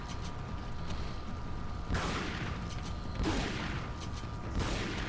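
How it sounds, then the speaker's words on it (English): Grenade blasts in Resident Evil 4 come as three heavy booms spaced about a second and a half apart, each a broad, rumbling burst. They land over a steady bed of game ambience, loud and close. "It's good use of a grenade."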